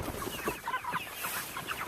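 Young chickens on an urban micro farm pasture cluck and chatter softly, several birds overlapping in a continuous murmur outdoors at moderate distance.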